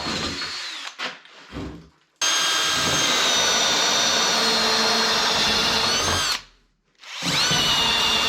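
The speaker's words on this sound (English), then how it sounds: "Shouldn't have opted for this drill bit." Power drill boring with a drill bit while fixing up a Yanmar mini excavator, a loud close whining buzz that starts in short bursts, then runs steadily, stops briefly and resumes.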